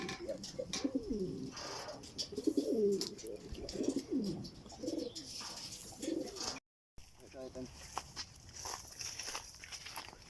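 Racing pigeons cooing in a loft, several soft rolling coos repeating close by, mixed with shuffling steps and light movement.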